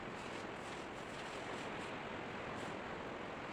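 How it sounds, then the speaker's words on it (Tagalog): Ocean surf at Mati City rolls in as a continuous, dense wash of breaking waves, steady and fairly loud throughout with no voices over it. "Wow, grabe yung alon, guys."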